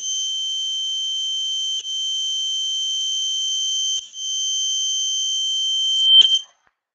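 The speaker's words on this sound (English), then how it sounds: "we'll hear the beep" A Dome by Elexa water leak sensor sounds its alarm once the sensor gets wet. It gives a loud, piercing, steady high-pitched tone broken by two brief gaps, then cuts off abruptly.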